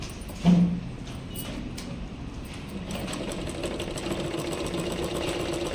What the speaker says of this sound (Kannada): ಇವಾಗ ಸ್ಟಿಚ್ ಮಾಡ್ತೀನಿ ನೋಡಿ